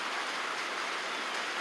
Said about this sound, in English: It's pouring rain again today.